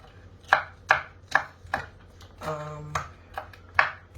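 Peppers being diced small with a knife on a cutting board, a series of crisp, evenly spaced chopping taps close by, with a brief clatter in the middle.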